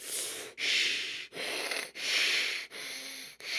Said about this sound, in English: they have this very labored, hissing breathing that they do